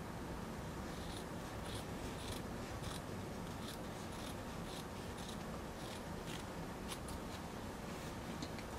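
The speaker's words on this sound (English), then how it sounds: "So you're going to trim that pretty close, trim up both sides, being careful to get close to the stitching but not cut through it" Scissors snip through fabric seam allowances in quiet, close, repeated clicks at an irregular pace over a faint background hiss.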